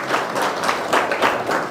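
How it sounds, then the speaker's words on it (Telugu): Audience at a public meeting applauds together, a short burst of steady clapping in a few swelling waves, moderately loud and close. "ఒకసారి చప్పట్ల ద్వారా మీ అందరి ఆమోదాన్ని"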